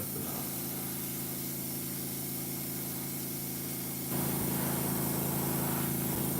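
Spray painting a jointed crankbait fishing lure: a continuous close airbrush-style hiss over a steady compressor hum, which steps up slightly louder partway through.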